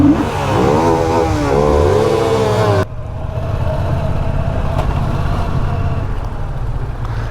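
A nearby motorcycle engine revs hard in rising and falling surges for a few seconds. It then gives way abruptly to a steadier, duller rumble of engine and road noise.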